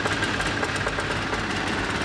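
Engine of a Stinar CPW 100-3 potable water cart running steadily at idle, a continuous mid-low rumble with faint knocking throughout, close and constant with no talk.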